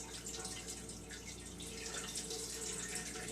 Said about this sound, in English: Now we're going to use this and pour the stock through here.